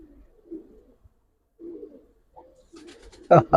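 Soft, low coos from silver khaki Giribaz pigeons murmur in short bursts, a few calls spread out, then a sudden loud flutter near the end.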